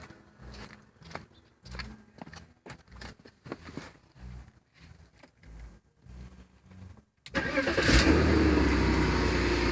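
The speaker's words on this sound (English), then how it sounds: "So I'm gonna start the engine." A BMW engine cranks and catches, then settles into a steady, loud idle after a stretch of quiet clicks and handling noises.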